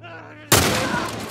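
A sudden loud gunshot goes off in The Last of Us Part 1 and then rings out in a decaying echo after a quiet, tense moment in the video game.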